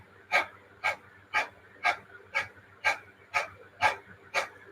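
Dog-pant breathing exercise in a bedtime yoga session: a person makes rapid, rhythmic panting breaths, about nine sharp puffs at an even pace, close and clear with a faint hum underneath; the voice imitates a panting dog.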